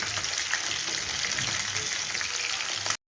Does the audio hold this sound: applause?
no